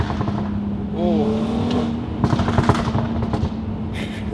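Car rolling along a road full of potholes, a steady engine drone broken by a cluster of sharp thumps and rattles as the wheels hit the holes, with a voice heard briefly over it.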